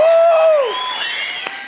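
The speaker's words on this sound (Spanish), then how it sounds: "Recibamos con un fuerte, muy fuerte aplauso en esta casa llena a Guillermo Arriaga" A packed house of spectators cheers and applauds to welcome the Mexican writer and playwright Guillermo Arriaga, opening with a loud whoop or whistle that dips away into a steady, fairly loud wash of crowd noise.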